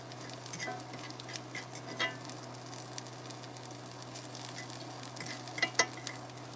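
Onions fry and are stirred in a pan during vegan cooking, a soft steady sizzle with faint scraping and a few light clinks near the end, no talk.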